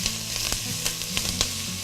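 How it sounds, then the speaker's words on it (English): Onions fry in a pan for cauliflower soup, a loud continuous sizzle close up, with soft scraping knocks from stirring at regular intervals. "You want to constantly stir your onions so one side of it doesn't cook more than the other side"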